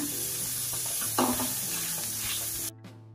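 Crumbled egg and vegetables stirred in a hot pan for egg fried rice, a close, steady sizzle with scraping stirs that cuts off abruptly near the end, with no talk.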